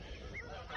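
Guineafowl calling while free ranging outdoors, a steady harsh honking, cackling chorus of several birds at moderate distance, continuous through the moment with no talk.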